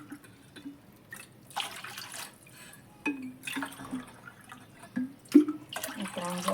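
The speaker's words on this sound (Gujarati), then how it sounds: "હવે આપણે આની અંદર 3 ગ્લાસ પાણી એડ કરી દઈશું." Water poured from a glass into mango pulp for a sweet-sour mango drink, several short splashy pours with pauses between them, close and fairly quiet, with no voices.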